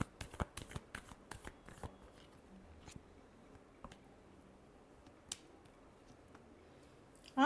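Tarot cards are shuffled close by, quietly: a quick run of papery riffles and clicks early on, then sparser taps and slides that trail off toward the end.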